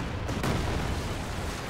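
A rocket artillery barrage in the Company of Heroes 2 video game, heard as a dense, booming burst of explosions that rumbles on with no speech over it.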